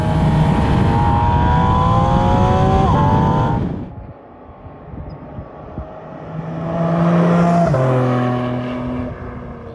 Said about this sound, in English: leading to what is perhaps one of the most aggressive intake sounds in the history of cars.